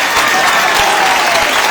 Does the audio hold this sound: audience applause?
yes